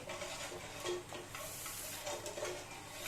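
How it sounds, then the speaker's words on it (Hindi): A spoon stirs falooda mix into liquid in a pot, giving a soft, steady scraping and swishing with a faint bubbling hiss underneath, close and continuous without talk. "थोड़ा थोड़ा डाल के हम चम्मच से चलाते जाएंगे।"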